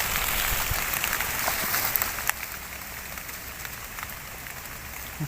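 Rain patters steadily outdoors during white mushroom picking, a continuous hiss with scattered distinct drop ticks and one sharper hit midway.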